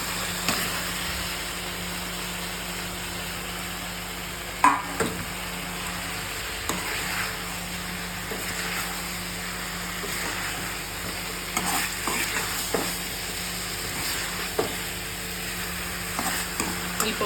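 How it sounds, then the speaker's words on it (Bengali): Spice masala stirred and frying in oil in a pot for a Bengali katla fish head curry with potato and cauliflower, a soft steady sizzle broken by scattered scraping strokes of a spoon, close by with a faint background hum. "এই পর্যায়ে আমি সব কিছু অ্যাড করে একটু ভালো করে কষিয়ে নিয়ে তারপরে জল"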